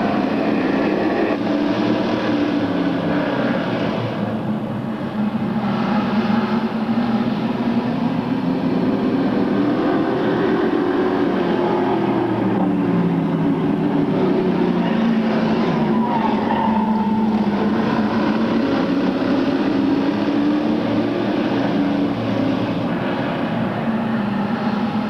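Race cars in a Sportsman Division semi-final at a 1996 night race pack past under green, a continuous loud engine drone with rising and falling pitch sweeping across the whole stretch, no voices.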